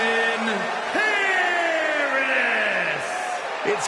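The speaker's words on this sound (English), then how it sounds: "It's great to hear the crowd give this superstar the reception he deserves" Large arena crowd in a fighting video game roars and whoops loudly and continuously as a fighter makes his entrance, with rising and falling yells layered over the din.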